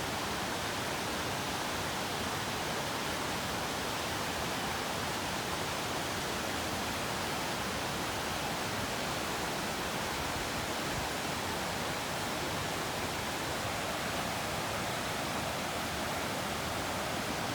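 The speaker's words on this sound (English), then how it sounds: "Here's a beautiful creek." A forest creek in the North Cascades, Washington, flowing steadily along a hiking trail: a constant broadband rush of water, even and unbroken throughout, moderately close, with no voices or other sounds over it.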